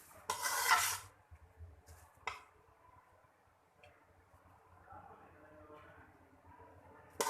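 Utensils stir chopped green and red chillies and ginger into a pan of daal mash, a loud scraping mix at first, then a sharp clink and softer intermittent stirring with faint sizzle underneath.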